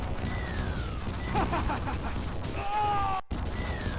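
Gunfire and explosions destroying a tank in the 1987 SNK arcade game Guerrilla War, with chiptune bursts, descending whistling tones and crashing blasts over steady game music, ending in a short dropout.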